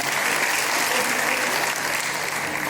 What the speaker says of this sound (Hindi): इस बार जोरदार तालियों के साथ